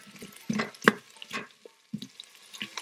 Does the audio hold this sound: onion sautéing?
yes